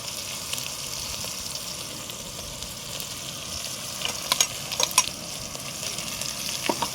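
Pieces of okra fry in a pan with garlic and chili powder, giving a low steady sizzle with occasional scraping stirs near the end.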